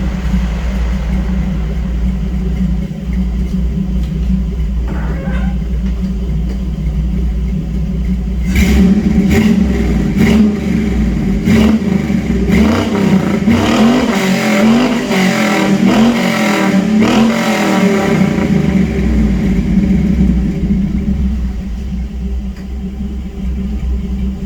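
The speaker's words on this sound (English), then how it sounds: "Sounds good, revs up good." A Chevrolet C10 truck with an LS engine swap revs up from idle, the engine climbing in repeated throttle blips for about ten seconds before settling back to a steady idle, loud and close.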